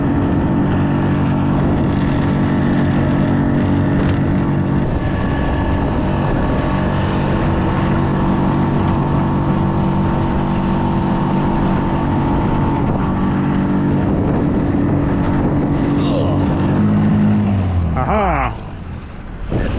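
Pond Prowler small boat's motor drones loud and steady close by, then near the end the propeller ventilates and loses traction, the pitch sweeping up and down erratically before the engine note drops away.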